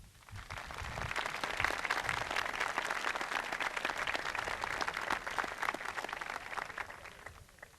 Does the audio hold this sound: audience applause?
yes